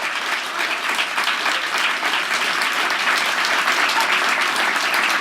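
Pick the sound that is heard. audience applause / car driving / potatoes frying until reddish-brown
audience applause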